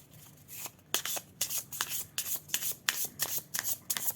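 Repeated riffling bursts of tarot cards being shuffled, close and crisp, in a quick, fairly regular rhythm with no talking.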